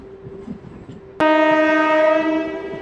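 A WDG6G diesel locomotive hauls a Kacheguda–Raichur MEMU train, a quiet low hum giving way to a sudden loud, sustained tonal blast, likely the horn, that fades slightly near the end.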